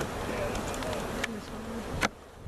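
Honey bees buzz around a comb frame lifted from a backyard hive, a sparse, steady drone close by, with a couple of sharp handling clicks over it.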